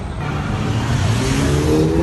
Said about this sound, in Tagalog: Wala na ba akong maririnig sa buong magdamag kundi yung tororot ng tambucho?